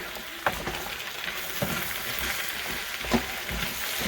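Thick, chunky potato soup stirred and chopped with a spoon in a pot, giving a soft continuous sizzling, scraping texture with a few louder knocks of the spoon against the pot; no talking.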